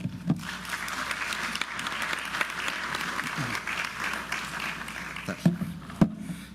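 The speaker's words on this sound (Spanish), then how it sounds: "Démosle un fuerte aplauso." A conference audience gives a fairly soft, steady round of applause for a speaker, with a few sharper individual claps standing out near the end.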